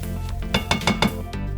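Condensed milk and cardamom being stirred in a metal pot, a short run of three or four close clinking scrapes of a utensil against the pot, no talking.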